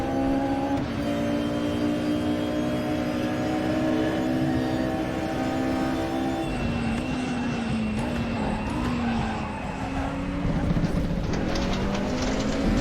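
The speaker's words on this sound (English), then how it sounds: "I hear someone behind me. That's a BMW." A high-revving BMW race car engine in a sim racing video game roars steadily with shifting pitch, a second engine joining partway through, loud and continuous.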